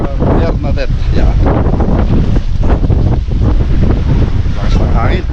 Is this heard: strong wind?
yes